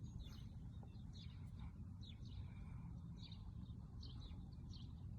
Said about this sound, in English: repetitive, sort of monotonous sound, that's a house sparrow